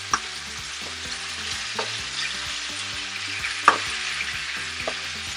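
Pork spare ribs fry in a pan beside the sautéed spinach with a continuous close sizzle, punctuated by several sharp clacks as the pieces are stirred and turned. No one speaks.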